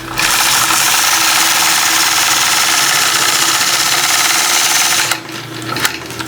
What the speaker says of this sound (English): I'm stitching a point to point half circle